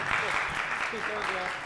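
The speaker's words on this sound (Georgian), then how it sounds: "აპლოდისმენტები ჩვენს ონლაინ მაყურებელს" Applause from the audience at a Georgian MMA press conference, a steady wash of clapping throughout with voices mixed in underneath.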